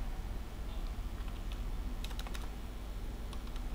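Someone types on a computer keyboard, a quiet scattering of light key clicks in short bursts over a constant low background hum.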